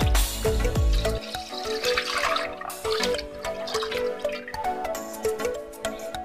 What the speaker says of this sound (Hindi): अब इसमें दूध डालेंगे हम।